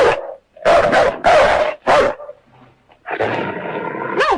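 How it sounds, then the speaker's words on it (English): A wounded dog in an old Western film barks four times in loud, close bursts, then breaks into a lower, drawn-out growling whine. "It's a dog."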